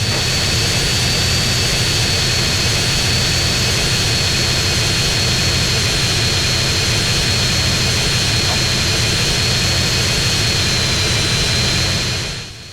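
Jet airplane engine roaring steadily as a plane takes off in GTA San Andreas, a loud continuous whine and rumble throughout with no voices, fading slightly at the very end.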